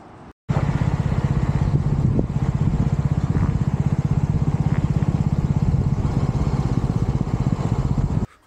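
A motorbike runs steadily and loudly on a bike trip through the Spiti mountain circuit near Kaza, its engine a continuous close drone with rhythmic pulsing throughout, no talk over it.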